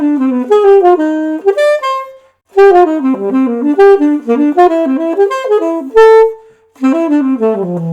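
An improvised melodic line mixing scale runs, arpeggios and chromatic passing notes, in quick bright phrases with brief pauses between bursts, played close and loud with no talking.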